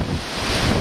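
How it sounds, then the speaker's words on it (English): Gusty wind and choppy lake waves wash against a dock on Lac Courte Oreilles on a very windy early-June day; a brief, steady roar of broadband rushing noise, close and fairly loud. "you can see the water, the waves are"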